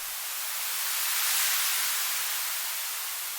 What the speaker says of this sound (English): We get this nice rising white noise, and my EQ opens and closes to make some movement.